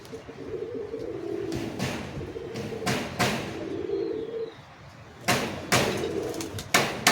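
Teddy pigeons coo in soft, low rolling phrases with a brief pause, punctuated by several sharp knocks from building work on their coop close by.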